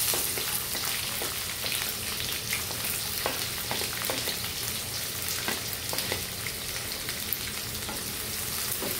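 Onions hit a frying pan after it has browned, setting off a steady, crackling sizzle with scattered pops and light stirring taps. Cooking scrambled eggs, heard close and without talk.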